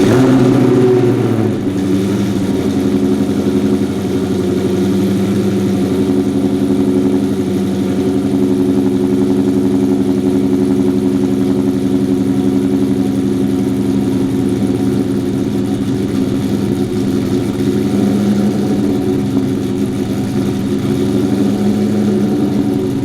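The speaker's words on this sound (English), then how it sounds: "I'm going to go ahead and start it up and let you guys hear what it sounds like." A cammed Dodge Challenger R/T with a Corsa Extreme catback exhaust, resonators and mufflers, cold-started at about 8 degrees, catches and settles into a loud, steady, lopey idle that holds throughout, close up with no talk.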